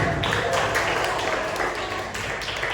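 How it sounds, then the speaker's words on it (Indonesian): A classroom of students applauds a student group after its presentation, a dense, steady patter of many hands clapping together for a few seconds. "tepuk tangan untuk kelompok"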